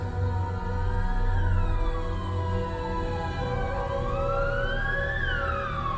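An ambulance siren wails continuously and loudly, its rising and falling tones sweeping back and forth with a rumbling vehicle underneath, used as a dramatic sound effect with no voices.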